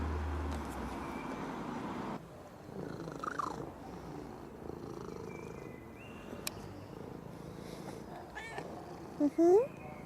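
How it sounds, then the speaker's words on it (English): A cat meows a few times near the end, short rising cries close by, after a stretch of quiet outdoor background with faint movement. "A meow meow."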